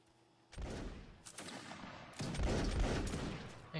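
Musket volleys in a Napoleonic line battle game: after a quiet start, a loud crackling volley erupts, dips, then a second heavier ragged volley follows, with rolling echoing reports.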